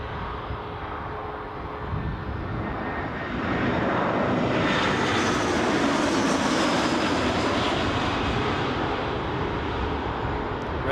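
An easyJet airliner on approach to Newcastle airport roars overhead, its jet engines swelling from a distant rumble to a loud, broad sustained whoosh with no talking.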